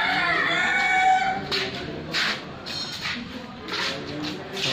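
Chickens cluck and crow amid a busy meat shop in Patia, Bhubaneswar, where live birds including black Kadaknath, Chinese chickens and turkeys are kept for sale; the calls are fairly close and repeated, with light background bustle.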